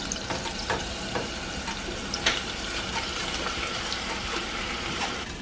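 Water poured over red lentils, a steady hissing, gurgling pour at moderate distance, fairly quiet and continuous with a few brief splashes, and no talking.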